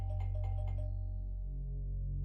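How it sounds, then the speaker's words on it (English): A doorbell chimes at a remote house in the countryside, a few bright tones ringing out and fading over a steady low hum. "Ooh! Doorbell!"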